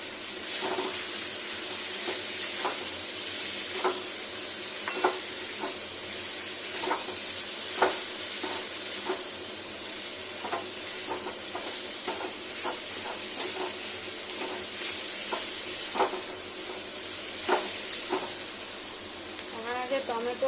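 Cauliflower and potatoes with spices frying in a pan, a constant soft sizzle broken by regular clinks and scrapes of a spoon stirring, fairly quiet and close.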